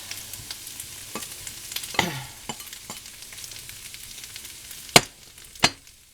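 Sausages sizzling in a hot pan as a utensil spreads and separates them, a steady frying hiss broken by a few sharp scrapes and clacks, two loud ones near the end.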